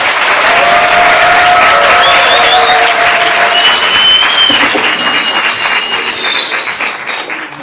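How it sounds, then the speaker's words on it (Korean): Lecture audience at an academy talk giving a loud, sustained round of applause that fills the room, a dense steady roar of clapping with a few scattered cheers, tapering slightly near the end. "힘찬 박수를 보내주십시오."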